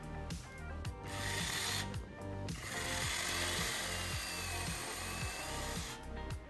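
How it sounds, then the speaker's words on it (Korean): A hex bolt being tightened on a WOSAI cordless chainsaw, heard as repeated ratcheting, grinding tool strokes in a steady close rhythm with pauses, loud and alone without talk. "장력 조절이 완료되면 육각 볼트는 풀리지 않게 꽉 조여 넣습니다."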